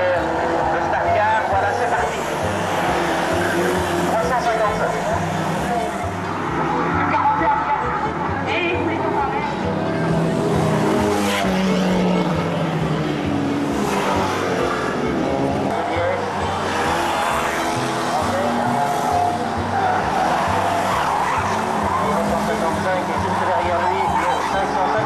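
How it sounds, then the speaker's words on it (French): Autocross race cars from the late 1980s speeding around a dirt speedway, engines whining and rising and falling as they pass, with intermittent tire skids, all under a continuous announcer's voice. "Vous allez assister successivement à des courses de voitures, des courses de privé car"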